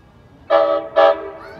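An Amtrak passenger train sounds its horn at a busy rail station, two loud, clear blasts with a short gap between them, followed by faint trailing noise.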